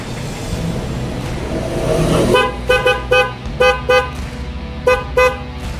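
An engine idles, then an aftermarket big horn on a Honda Click scooter gives a series of short, sharp honks in quick bursts, some doubled, loud and close.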